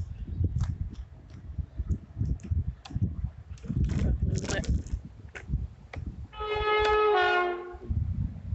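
People talk over a low rumble at Highbridge and Burnham railway station as a passenger train passes through, then a loud, sustained train horn blasts for about a second and a half before the talk resumes.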